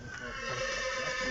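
A horse whinnies once in a sustained, moderately faint call, with no talking.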